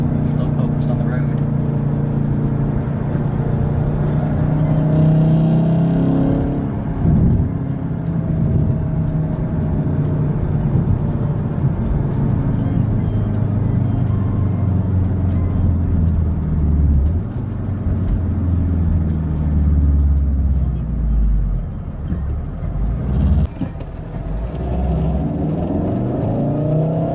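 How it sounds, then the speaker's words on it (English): A 2018 Volkswagen Golf R Mk7.5 engine drones and builds as the car accelerates on winding roads, rising and falling through gears, with a person talking over the engine throughout. "Just awesome little engine"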